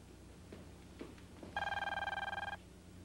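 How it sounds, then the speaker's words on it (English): An old office telephone bell rings in one sustained burst with a rapid trembling clatter, preceded by a few soft knocks and movement in the room. "Answer the phone, George."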